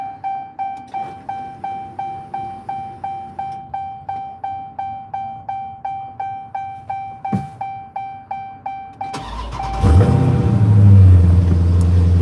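A stock-exhaust vehicle engine cranks with a rhythmic repeating starter whine over roughly nine seconds, then catches and fires into a loud, steady rumbling idle close by.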